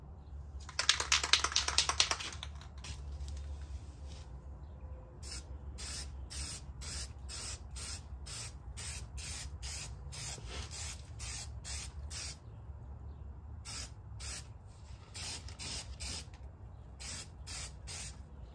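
Spray paint hisses onto a rust repair patch on a 2000 Honda Civic, first in one long burst, then in a steady series of short, regular bursts, close and fairly loud.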